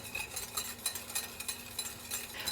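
Unsalted butter being whisked into egg for hollandaise sauce, a steady, rapid scraping and clinking of the whisk against the bowl that repeats in quick strokes, close and fairly quiet.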